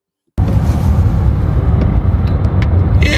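Steady low road rumble and engine drone inside a hatchback while driving, loud and continuous after starting abruptly, with a few faint clicks and rattles near the end.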